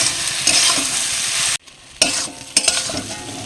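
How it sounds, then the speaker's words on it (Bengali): Fried egg and pointed gourd being stirred into spice paste in a pan over low flame, a loud continuous sizzle with scraping stirs, a brief near-silent gap midway, then sizzling resumes with spatula strokes; no talking. "ডিম আর পটলটা দিয়ে লো ফ্লেমে আরও 2-3 মিনিট কষিয়ে নেব"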